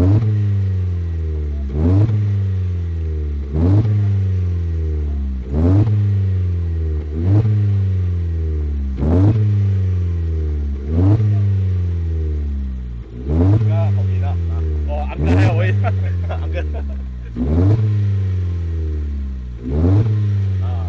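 A Ford Fiesta MK7 with a Milltek cat-back exhaust revs repeatedly, about a dozen loud, close blips that each rise sharply then fall back to a throbbing idle, in a steady rhythm throughout.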